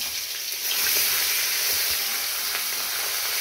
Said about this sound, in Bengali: আমি মাছগুলোকে ভেজে নিচ্ছি।